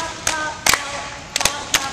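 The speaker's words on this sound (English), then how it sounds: "Get the whole class to clap with me." A class in a physical education lesson on tinikling claps along in rhythm, giving five or six sharp, close claps spaced unevenly over a low room hum.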